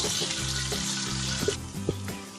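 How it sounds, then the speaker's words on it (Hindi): Ginger, garlic and green chilies sauté in hot oil in a pan with a loud, steady close sizzle that runs throughout, broken by a couple of light clinks of a utensil against the pan, and no talking. "इसमें हम जिंजर डालेंगे, गार्लिक, ग्रीन चिलीज और उसको 1 मिनट के लिए सॉटे कर लेंगे।"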